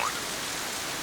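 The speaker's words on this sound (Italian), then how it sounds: "tecnicamente c'è questa pioggia artificiale adesso a coprirci un po'" Artificial rain falling in the video game Vampire Rain, a steady, even hiss of downpour filling the short moment with no pauses and no voices.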